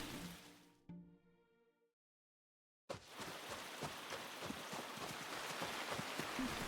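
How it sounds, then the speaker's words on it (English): Steady, dense rain patter in the video game Luma Island kicks in abruptly after a short silent gap, loud and close, continuing without pause. "the rain in this game is loud"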